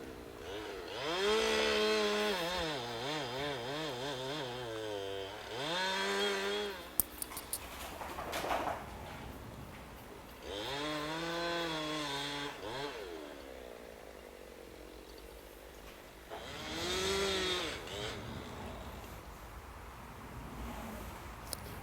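A chainsaw revs loud and close while cutting the undercut to hand-fell a large tree along Highway 18 in Oregon's Van Duzer Corridor, Tillamook County, in three sustained cutting bursts separated by brief idling pauses.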